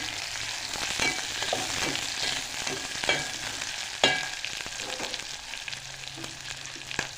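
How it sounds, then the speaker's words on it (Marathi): Onion, green chili and capsicum frying in a pan for vegetable pulao, a continuous close crackling sizzle with scattered spoon scrapes and clinks against the pan. "कांदा लाल होऊ द्यायचा थोडासा त्यानंतर टाकली आपण हिरवी मिरची शिमला मिरची"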